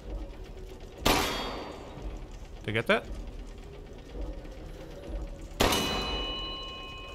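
Two loud metallic bell clangs from a bell struck in Resident Evil Village, each ringing out with a bright decaying tone, several seconds apart, with a brief spoken line between them.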